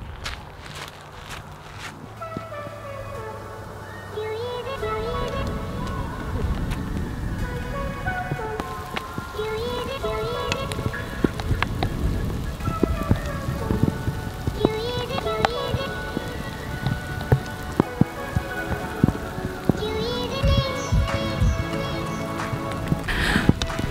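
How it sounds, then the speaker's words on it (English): Heavy rain pours steadily at an outdoor scenic lookout, a dense constant wash of drops and splatter running for the whole stretch, with a few louder nearby impacts and occasional movement noise close by. "Okay, it's raining really hard."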